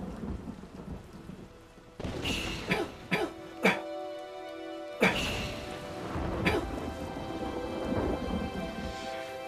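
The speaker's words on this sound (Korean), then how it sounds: "아, 갑자기 비가 오네." Steady rain falls throughout while sharp thunder cracks break in after a quiet first two seconds, several close rumbling strikes in quick succession followed by ongoing downpour.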